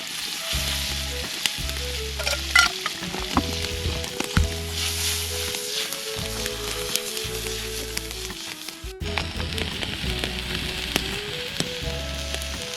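Onions, mushrooms and potatoes fry in a pan over a campfire, a constant crackling sizzle heard up close with light clicks and stirring, while background music plays underneath.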